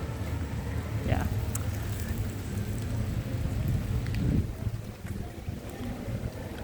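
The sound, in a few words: rain during a night walk in Hasselt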